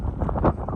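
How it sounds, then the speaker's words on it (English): Strong, extremely cold wind outdoors in a residential neighborhood of McKinney, Texas, buffeting the microphone in a close, loud, continuous roar. "extremely windy and extremely cold."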